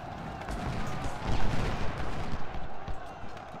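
Rattling volleys of musket and cannon fire from a Civil War battle in Ultimate General: Civil War, with a dense, continuous crackle of gunfire at moderate loudness, swelling slightly in the middle.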